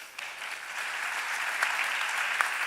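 Theatre audience applauding cast members at a 2019 New Year's event, a sustained even patter of many hands at moderate distance, with a few sharper claps standing out.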